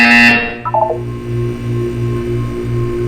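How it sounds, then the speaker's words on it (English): A short electronic buzzer tone from the Portal 2 video game sounds loud at the very start, followed by a quick rising series of beeps and a low pulsing hum that continues underneath. "When you hear the buzzer, look down at the floor."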